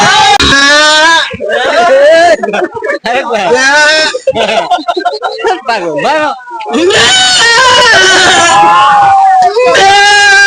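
A man loudly imitates a goat bleating with wavering, strained cries in repeated bursts, broken by short gaps, at a lively village acting game.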